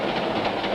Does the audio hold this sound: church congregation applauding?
no